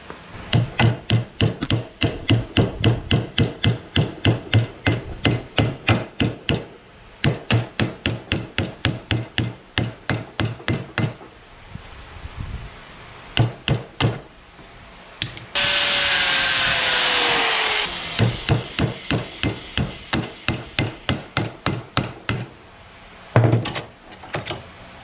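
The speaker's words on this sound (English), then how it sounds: "you can take the hammer and start hitting it directly in this line area to bend it in" Rapid bursts of sharp metallic hammer blows on metal clamped in a vise ring out up close, repeated in quick rhythmic runs with short pauses and a brief whirring noise midway.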